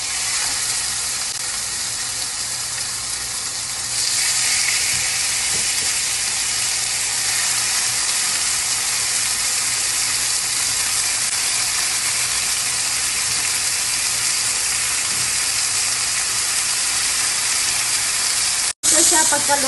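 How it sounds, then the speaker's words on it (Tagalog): Chicken fries in a nonstick pan with a steady, close hiss and crackle of hot oil that grows louder after a few seconds and runs unbroken almost to the end, where a brief cut interrupts it. "Ngayon i-fry natin konti siya dito sa ano, dito sa stick na frying pan."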